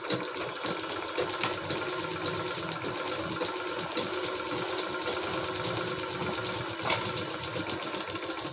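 A sewing machine runs steadily and close by, stitching a round seam on a fabric sewing machine cover, with a continuous whirring mechanical chatter and no talking.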